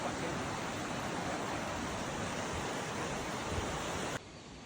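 Steady broadband roar of Tumpak Sewu waterfall in East Java, Indonesia, a loud continuous rush of falling water close by that holds evenly, then drops sharply in level near the end.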